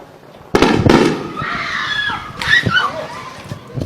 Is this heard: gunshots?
yes